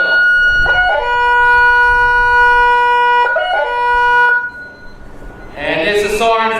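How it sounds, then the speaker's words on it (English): A loud, sustained electronic half-time siren at a football grand final blares twice with steady tones, over a roaring crowd, before a voice begins speaking. "there's a siren for half time"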